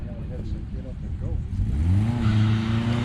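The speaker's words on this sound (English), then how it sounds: "One wheel burnout." At a classic British sports car race event, a car does a one-wheel burnout, its engine revving up into a rising roar with tire noise while spectators talk nearby.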